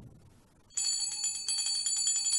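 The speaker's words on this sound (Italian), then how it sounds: "Chi, chi suona la campana?" A bell rings out sharply after a short quiet moment, bright metallic strikes repeating in quick succession and sustaining loudly for the rest of the clip with no talking.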